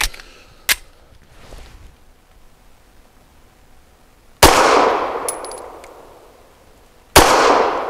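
Gunshots from a Ranger Arms RA9 pistol-caliber carbine firing PMC Syntec PCC 130 grain ammunition: a sharp shot near the start, then two loud close reports with long ringing decay, a few seconds apart.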